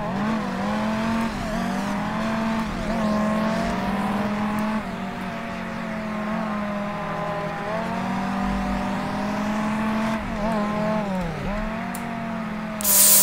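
A Dodge Viper SRT-10 coupe in the World Racing 2 racing game, driven at Laguna Seca, slides as its engine drones steadily and loudly with shifting pitch throughout, and a brief burst of noise comes at the very end.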